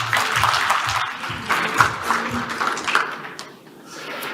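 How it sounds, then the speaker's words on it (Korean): An audience at the AWS Summit Seoul 2023 conference applauds a speaker being welcomed on stage, giving moderate, sustained clapping that thins out and fades near the end. "뜨거운 박수 부탁드리겠습니다."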